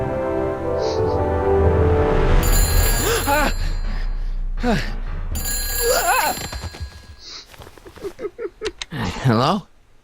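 A telephone rings in the Back to the Future video game, with trilling rings at the start and in the middle, alternating with voices talking over game music.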